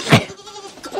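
A goat on a mountain homestead lets out one loud, close bleat at the start, followed by quieter rustling and shuffling.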